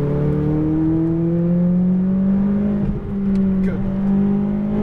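McLaren 570S engine under full throttle on a track, a loud, close, steadily rising engine note with a brief dip mid-way as a gear changes, then climbing again.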